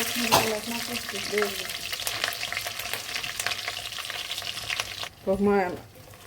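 Onions frying in a pan while an Andhra-style prawn curry is cooked, a strong steady sizzle with stirring clatter throughout, then a brief voice near the end.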